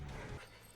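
A dog in Call of Duty 4 on Xbox 360: one short loud bark or yelp right at the start, dense and close, trailing into a fainter tail under noisy game sound.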